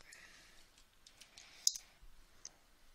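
A few faint, scattered computer keyboard key clicks while a passphrase is typed during Arch Linux disk encryption setup, with one sharper click near the middle and a quiet background otherwise.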